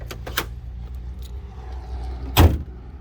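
Hood of a 2006 Ford Mondeo Ghia with a large V6-sized engine bay slammed shut, one heavy close thud after a couple of small metallic clicks and handling knocks, recorded nearby with no talk.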